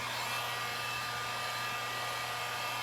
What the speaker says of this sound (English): So I'm going to heat it up in front of the heat gun